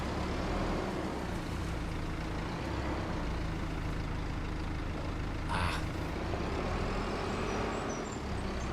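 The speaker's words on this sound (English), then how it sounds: "I might just be moving the semi-truck forward a little bit" A semi-truck in a farming video game drives with a steady, loud engine drone and rumbling road noise, and a short hiss like an air brake bursts midway through.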